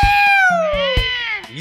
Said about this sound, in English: Pussycat! Meow!